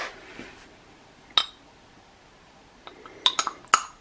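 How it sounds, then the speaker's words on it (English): A spoon clinks against dishes while lentil curry soup is served: one sharp ring, then a quick cluster of three or four bright clinks near the end, close and fairly soft in a quiet room. "Let me grab another spoon then."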